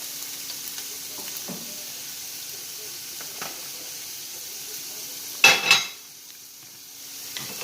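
Cabbage cooking in a pan for a salmon dish, giving a low steady sizzle with a brief louder hiss and clatter midway as the pan is stirred, close up and without voices.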